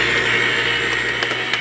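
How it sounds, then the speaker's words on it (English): An electric mixer whirs steadily, beating eggs into cranberry streusel coffee cake batter with a continuous loud, bright hum close by. "turn on your blender, or you can do it by hand and mix it in."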